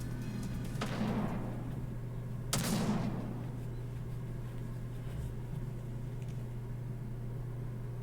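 Gunfire in the video game Goddess of Victory: Nikke: two separate booming shots with decaying tails, set over a steady low hum and otherwise quiet background.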